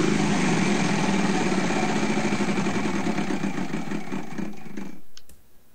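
The Wheel of Fortune game show prize wheel spins with rapid, even clicking that slows gradually over about five seconds and then stops, loud and close, with no talk over it.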